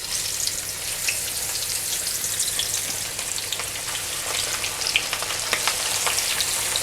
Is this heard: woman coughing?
no